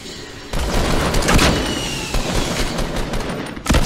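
Sniper rifle fire in Fortnite, with sharp loud reports standing out from a dense backdrop of ongoing game gunfire and effects, one near the start of the action and another close to the end.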